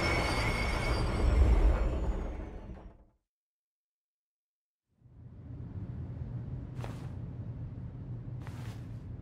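Runaway train in the video game Persona 3 Reload rolling on rails, a loud rumbling clatter that cuts to silence, then resumes as steady rail noise with two brief bright screeches.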